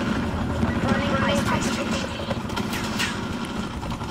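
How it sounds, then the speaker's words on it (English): A steady, droning helicopter rotor and engine rumble in Call of Duty: Black Ops 4 multiplayer gameplay fills the whole stretch, loud and continuous, with a voice talking over it at times. "It's a helicopter trying to kill me."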